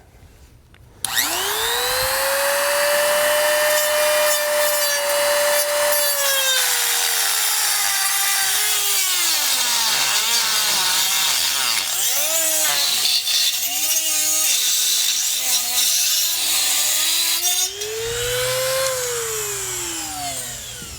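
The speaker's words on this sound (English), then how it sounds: "simply using a Dremel tool, cutoff wheel" A Dremel rotary tool with a cutoff wheel whines loudly as it cuts an opening for base plate hardware on a 2018 Ford Edge, the pitch sagging and rising as the wheel bites and eases, then a brief rev near the end.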